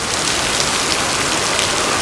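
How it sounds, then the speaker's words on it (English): Steady rain falls on surfaces in mid-July, a dense, loud, continuous hiss of drops without any break or voices. "that's what it takes to get a rain in mid-July"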